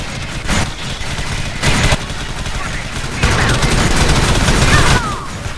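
Rapid bursts of heavy gunfire from a big gun in the sci-fi shooter Alien Swarm, loud and continuous with dense clustered shots, swelling in a long final volley.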